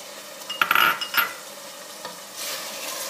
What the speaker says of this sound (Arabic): عندي العدس، نحط العدس